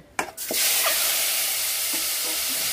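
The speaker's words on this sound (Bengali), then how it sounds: "ফুলকপি ভাজার তেলেই ডিম দিয়ে দিন।" Eggs hit hot oil left from frying cauliflower in a pan, a couple of clunks followed by a sudden loud sizzle that settles into a steady close hiss.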